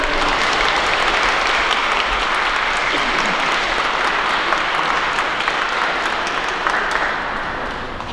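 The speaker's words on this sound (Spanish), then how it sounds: "Le damos un aplauso a la quinceañera." Guests at a Catholic church ceremony applaud a quinceañera, a sustained, fairly loud burst of clapping that holds steady for several seconds before tapering at the end.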